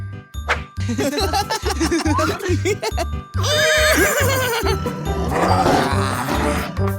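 Cartoon horse neighing, a loud, wavering whinny over a steady thumping beat with jingling tones, followed by grunts and a roar-like burst near the end.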